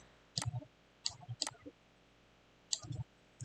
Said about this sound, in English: So I'll click and drag to import it.